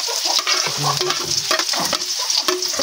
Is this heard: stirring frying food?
yes